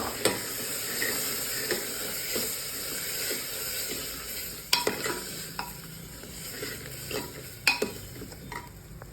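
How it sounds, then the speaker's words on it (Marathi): Rice being sautéed in a pan for spiced masale bhat, a steady soft sizzle broken by irregular scraping and tapping strokes of a spoon, close and without talk. "आता टाकूया तांदूळ तांदूळ परतून घेऊया"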